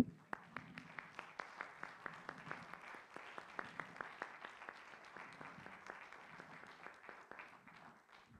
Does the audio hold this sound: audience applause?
yes